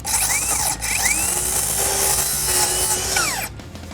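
Power saw cutting through plywood under heavy pressure and starting to bind, a loud, continuous whining buzz with pitch sweeps as the blade slows, briefly dipping before ending.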